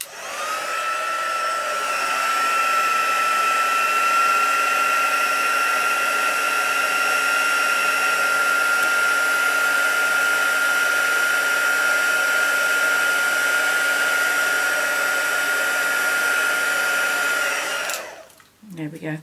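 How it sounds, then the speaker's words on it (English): A heat gun blows steadily for about eighteen seconds with a loud, even whine and airy hiss while card is made for crafting, then it cuts off and winds down quickly. "before I get my heat gun out"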